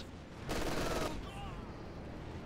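Light machine gun fire in Company of Heroes 2 during a competitive match: a dense roughly half-second burst of rapid shots, loud and close, then fading into a faint battlefield hiss.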